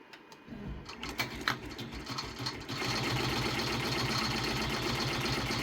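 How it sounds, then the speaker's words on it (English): A Redline 1501 embroidery machine stitches an outline onto a child's shirt for appliqué, its rapid needle rhythm starting softly and then settling into a steady, dense mechanical whir that fills the rest of the stretch. "right now it's going to stitch out my next outline, and that will be the mouse face"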